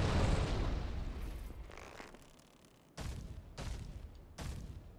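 Weapon blasts in the video game Dark Souls: a loud opening explosion that fades out, then three sharp bursts in quick succession, with no speech.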